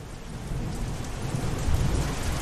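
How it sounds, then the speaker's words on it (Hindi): Heavy rain pours down in a dense, continuous roar with low rumbling underneath, steady and close throughout with no voices. "ऊपर से ही बारिशवा अलग ही दिमाग खराब कर रहा है"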